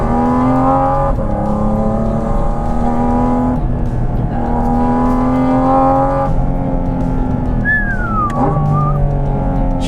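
Loud and close, the engine of a Porsche Cayman GT4 RS in manual mode revs hard and holds a steady high drone, then drops through downshifts with falling pitch sweeps, sounding alone.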